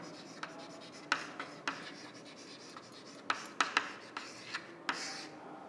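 A pen writes on paper during a lecture on finding the centroid of a composite section, giving soft scratching strokes punctuated by sharp taps, with no talking over it.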